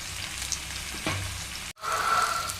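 Masala-coated fish frying on a low flame, a gentle continuous sizzle cut by a brief dropout, then resuming slightly louder with a faint higher whine.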